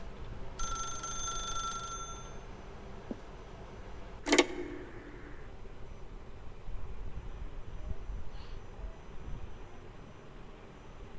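A telephone rings in the video game The Stanley Parable, a bright electronic trill lasting about a second and a half, then a sharp click, over quiet room hiss.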